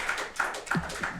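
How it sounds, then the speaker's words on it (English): A few scattered, distinct hand claps ring out in a council meeting room, about four separate slaps spaced evenly and fairly close, with no talking over them. "I wasn't looking for applause."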